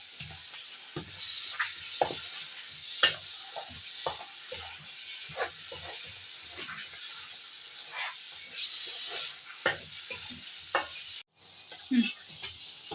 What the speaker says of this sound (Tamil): இப்போ வந்து இது எல்லாத்தையும் போட்டு நல்லா வதக்கணும் மசாலாவை